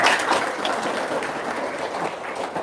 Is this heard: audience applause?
yes